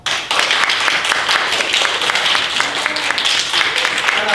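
A courtroom-style audience claps to show a Mrs. Witch is innocent, a dense, continuous patter of many hands lasting several seconds with faint talk mixed in underneath.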